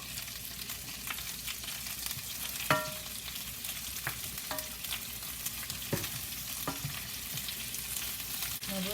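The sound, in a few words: green beans, zucchini and onion sautéing in a pan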